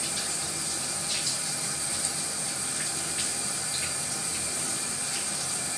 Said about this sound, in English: Open the faucet and then we rinse our hands.